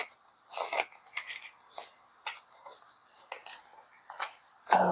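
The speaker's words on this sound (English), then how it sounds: "Oh, I've torn my paper." Paper crinkling and tearing while plants are unboxed, a series of irregular crisp rustles and rips at close range with no talking.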